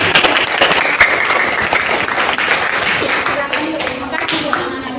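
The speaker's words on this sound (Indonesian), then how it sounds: "Ya, tepuk tangan." Students clap after a group's class performance in a classroom, a lively burst of close, uneven handclaps lasting a few seconds.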